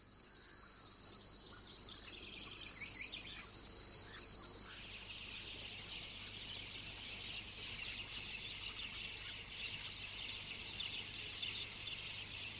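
A cricket chirps in a rapid, high, continuous trill on the forest floor, faint against a quiet woodland background, with the insect chorus shifting partway through.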